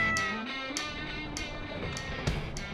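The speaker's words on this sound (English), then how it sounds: "Oh, look at this kitty." A cat in a narrow Hong Kong alley gives a run of short, high, tonal meows at a moderate distance over faint street background noise.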